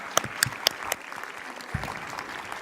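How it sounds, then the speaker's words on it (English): An audience claps to welcome the Governor of Veracruz at a conference, with scattered, fairly distinct individual claps standing out over a thin, light spread of applause. "please give a warm round of applause to welcome the Honorable Governor of the State of Veracruz"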